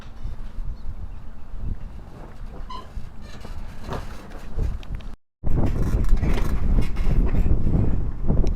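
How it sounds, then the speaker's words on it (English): Gusty wind roars across the microphone in a broad rush at a motocross dirt park, briefly cutting out before returning louder and harsher. "It's very windy today"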